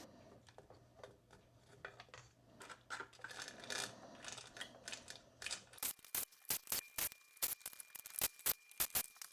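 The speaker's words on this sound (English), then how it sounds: "Take off our timing chain." Timing chain being pulled off a Yamaha YFZ 450 ATV engine during a rebuild, with light metallic clinks and rattles, then a run of sharp separate chain clacks near the microphone, with no speech.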